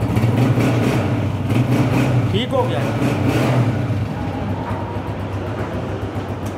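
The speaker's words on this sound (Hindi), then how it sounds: "अच्छे रिदम में इंजन बोल रहा है, अच्छी मेंटेन है बाइक" A Honda 125 motorcycle from 2016 idles with a steady low rhythmic thrum, close and continuous, while someone speaks briefly over it.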